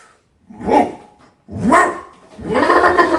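A man imitates a dog's barking in a Greek comedy sketch, producing three loud, close, gruff woofs separated by short pauses, the last one drawn out into a growl.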